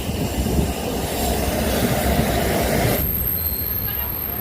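A freight train rumbles loudly and continuously nearby at Bagrakot station, West Bengal; the heavy noise drops sharply to a quieter hum near the end.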